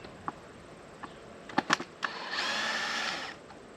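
A power drill backs screws out of a wooden swarm trap used for catching a late bee swarm, giving a few short clicks and bursts before a steady whirring run of about a second, fairly close and with no talk.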